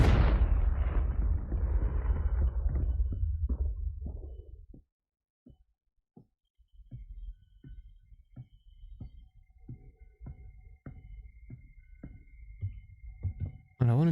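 Fire-blast spell explosions from the Confringo spell in the video game Hogwarts Legacy: a loud rumbling blast that fades out, then a quiet stretch followed by scattered muffled thumps and booms, with a sudden burst at the very end.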